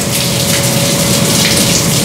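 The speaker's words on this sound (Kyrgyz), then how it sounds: "колбасаны душ кылганды эми көрүп атам" Water sprays steadily over sausages being washed in the Hayat sausage workshop, a dense, even hiss like heavy rain with a constant machine hum beneath, loud and unbroken throughout.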